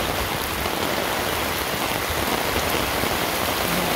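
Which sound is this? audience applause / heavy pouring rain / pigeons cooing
heavy pouring rain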